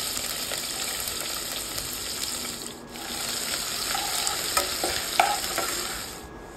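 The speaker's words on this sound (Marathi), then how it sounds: "कांदा लसूण मिरची तेलामध्ये घालून परतून घेतलंय।" Onion, garlic and chili stir-fried in hot oil while making a vegetable daliya pulao: a steady close sizzle with continuous stirring and scraping in the pan, briefly dipping and then rising again, with no talking.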